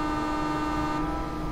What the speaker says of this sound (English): Let's give them a quick friendly honk.